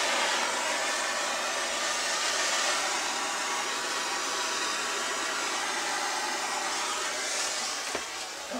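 Steady broadband roar of a plumbing torch flame burning during copper pipe soldering, close and continuous throughout, with no talk.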